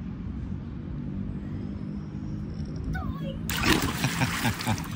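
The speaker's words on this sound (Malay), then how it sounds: "Oh, nak terjun dengan tu sekali." A person jumps into an outdoor swimming pool on a cold day, making a sudden close splash followed by water sloshing, while voices talk over the scene.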